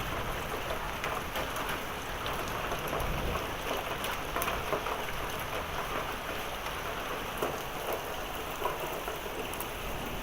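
A long, severe thunderstorm drives rain and hail down in a steady, dense roar, with frequent small sharp ticks of hailstones striking nearby surfaces and a faint low rumble underneath.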